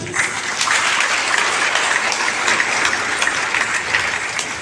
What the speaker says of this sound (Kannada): ಇವರಿಬ್ಬರಿಗೂ ಒಂದು ಚಪ್ಪಾಳೆ ಕೊಡಿ